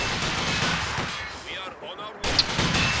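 Gunfire and artillery crashing in the video game Company of Heroes 2, a dense, noisy battle din that briefly drops away and then bursts back with a sharp report.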